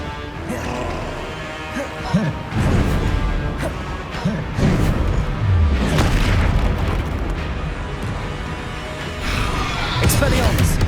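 Confringo fire-spell explosions in the video game Hogwarts Legacy, a series of heavy booms and crashes with a shouted spell call and background combat noise.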